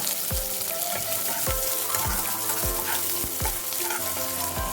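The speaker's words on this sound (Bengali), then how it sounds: "তেলটা ভালো মতো গরম হয়ে গেছে, এর মধ্যে আমি এবার পেঁয়াজ কুচিগুলো অ্যাড করে দেব" Chopped onions crackle and sizzle in hot mustard oil, a close, busy frying hiss with repeated pops and stirring scrapes, no voices.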